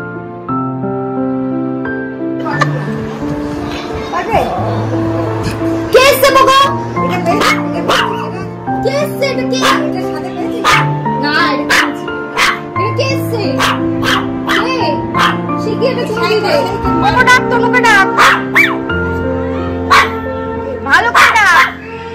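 A dog barks, yips and whimpers in a string of short calls that come in uneven bursts, fairly close, while people talk over and between the calls.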